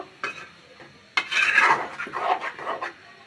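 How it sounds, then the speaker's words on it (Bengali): Olive pickle with five-spice being stirred in a pan, heard as a short scrape followed by a longer run of rubbing, scraping strokes of a utensil, close and moderately loud. "নাড়াচাড়া দিয়ে মিশিয়ে নিব"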